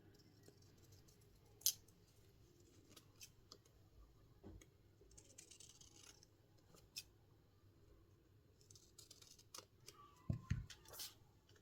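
Scissors snipping through a paper clothing tag, quiet scattered clicks and a few sharper cuts, with soft paper rustling and handling between them, no talk.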